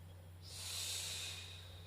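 A slow, controlled exhale during a home Pilates exercise, a breathy hiss that swells and fades over about a second, close and alone over a low steady hum.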